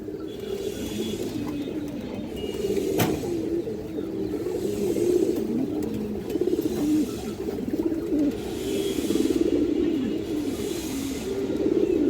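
Kaldom pigeons coo in steady low, rolling murmurs, overlapping from several birds close by, with one sharp click partway through.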